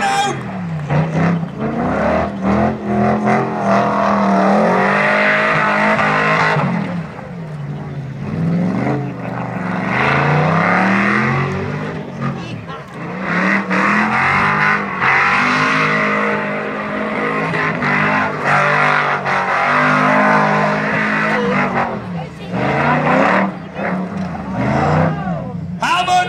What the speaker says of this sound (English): Here comes the burnout!